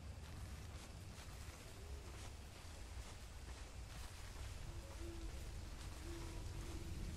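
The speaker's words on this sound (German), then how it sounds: "Ist super, es regnet." Steady rain falls in the Bigfoot video game, a soft continuous hiss of drops with low wind rumble, no talk over it.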